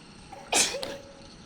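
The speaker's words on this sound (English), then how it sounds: "I'm gonna sneeze." A single sharp sneeze close to the microphone, a sudden bright burst followed by a brief trailing breath, over quiet room noise.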